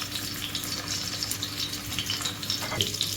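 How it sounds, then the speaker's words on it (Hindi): Meatloaf kababs frying in oil in a pan, a steady close crackling sizzle with small pops throughout, no voices. "इस तरह टर्न करते हुए सबको मैंने अच्छे से फ्राई कर लिया है"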